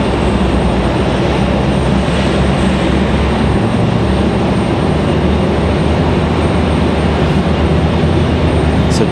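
A JetBlue airliner climbs out from Raleigh-Durham airport toward Richmond, its engines making a steady, loud broadband roar that holds evenly throughout with no talking.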